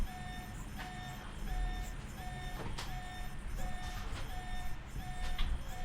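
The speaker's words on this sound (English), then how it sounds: "I'm gonna just go turn the alarm off." Alarm in the video game Alpha Protocol, a repeating electronic beep tone at a steady rhythm over a busy background of rumbling game noise, faint and somewhat distant.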